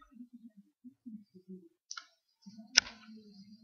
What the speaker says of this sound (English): And then you click capture.